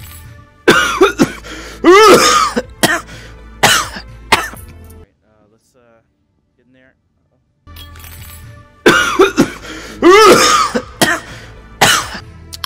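A player in a VR surgery game coughs several times in close, harsh bursts, with throat clearing and brief speech around the coughs, a quiet gap in the middle, then more coughing.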